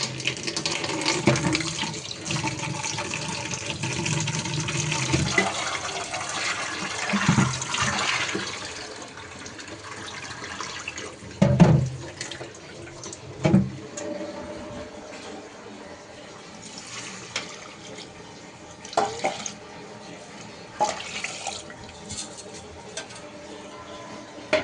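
Water runs from a household tap into a vessel while a peas and potato pulao is being cooked. It makes a steady, close rushing stream that thins out midway, with a few clunks of handling near the end.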